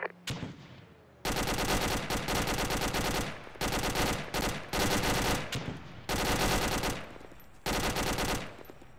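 Gunfire in the military video game ArmA 2, loud sustained automatic bursts from several weapons with brief gaps between long volleys, dense and close, with no talk.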